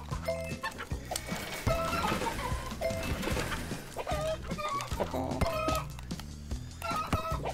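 Cartoonish chicken clucks and squawks from the video game Oddballers pop up repeatedly over a bouncy music track and game effects, while a player talks over the action.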